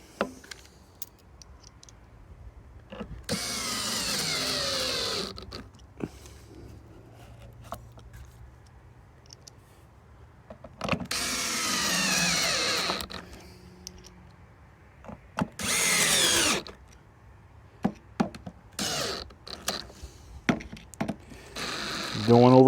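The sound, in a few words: drill driving screws into a sand filter dial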